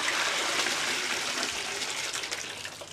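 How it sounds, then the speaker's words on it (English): Water from a fenugreek sprouting jar is poured into a bucket, making a steady, close splashing gush that runs the whole time and tapers slightly toward the end. "I'll just empty this water out in this bucket off the side of the camera."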